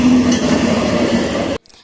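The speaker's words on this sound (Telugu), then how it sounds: "దాటిన తర్వాత ట్రైన్ వచ్చింది." A train rushes past a nearby crossing in the rainy season, its loud rumble and rail clatter holding steady before cutting off abruptly into near silence.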